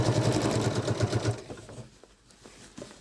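A Janome Inspire sewing machine stitches a seam through thick fabric, a fast, steady mechanical rattle for over a second before it stops, leaving faint clicks and handling noises.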